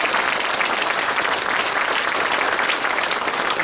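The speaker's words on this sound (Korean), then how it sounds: "장로님들 하단하실 때 뜨거운 박수로 다시 한번 감사드립니다." A church congregation at a retirement and ordination service claps warmly for the elders leaving the stage, loud, even applause filling the room without pause.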